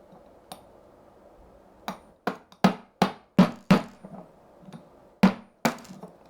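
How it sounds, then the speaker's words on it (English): Sharp metallic hammer blows strike an old Allen key used as a punch to drive pins out of a Neewer C-stand, about ten irregular close taps in short bursts. "Now I have this old set of Allen keys that I'm going to use to punch this out with the hammer"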